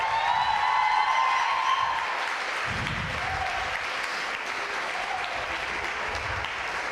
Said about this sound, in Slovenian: Miklavžev koncert, dajmo en aplavz